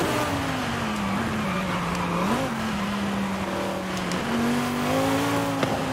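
A Lexus LFA engine accelerating during a street race, a steady high-pitched wail that dips and climbs again, heard from inside or close by with no talk over it.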